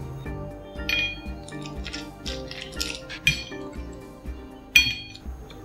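Ice cubes dropped into a drinking glass over lemon for a summer refreshing drink, giving a series of bright, close clinks and taps at irregular intervals, with a sharp louder clink near the end.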